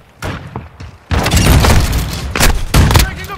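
A grenade blasts in Call of Duty: Modern Warfare II, a loud booming explosion that erupts after a few sharp thumps and rolls on with gunfire cracks and a second heavy burst, dense and close.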